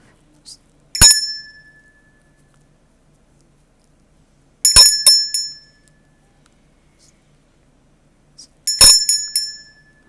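A small bright bell rings three times at roughly four-second intervals, each ring a sharp metallic ding that decays quickly, loud and close, with silence between the strikes.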